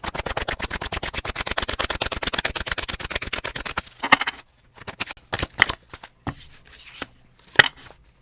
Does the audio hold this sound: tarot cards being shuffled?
yes